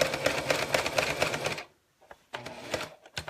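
A sewing machine stitches alongside a zipper in a fast rhythmic burst, stops briefly, then starts again in shorter runs, close up.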